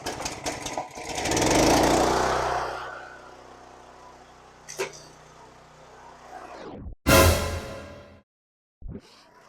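A pressure washer sprays a 1986 Harley Davidson FXR, giving a loud hissing rush near the start that fades into a lower engine drone, then a sudden loud burst, a cutoff and a brief final spurt.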